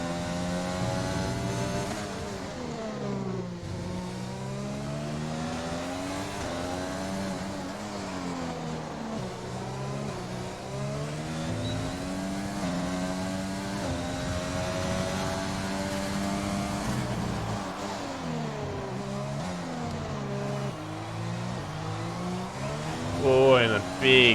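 Red Bull race car in a PC racing game at Zandvoort, its engine howling steadily with rising and falling revs through gear changes across the lap, loud and continuous, with commentary voices over the top.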